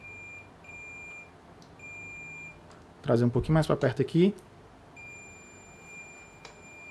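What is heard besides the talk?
multimeter continuity test beep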